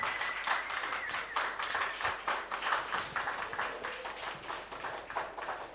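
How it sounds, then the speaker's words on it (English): An audience at a British Council creative community livestream claps together, a dense burst of hand claps that rises, holds and tapers, fairly close in a room. "Can we give them a round of applause?"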